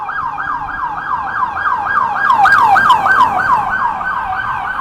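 A police siren wails nearby in quick repeating rising-and-falling whoops, steady and loud over faint traffic noise in New York City.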